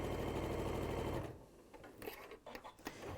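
Domestic sewing machine running a straight seam at standard stitch length for about a second, loud and steady, then stopping, leaving quiet handling noises and small clicks.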